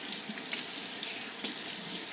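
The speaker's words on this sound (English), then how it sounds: "give us a nice warm sink bath with some detergent" Warm water runs from a tap into a plugged sink with a steady, close hiss and splash that continues without a break and has no talking.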